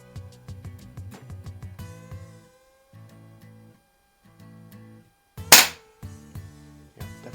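A Browning Buckmark air pistol by Umarex fires a series of sharp, snappy shots, fresh from the package, each a quick crack with short mechanical clicks between, one shot much louder than the rest.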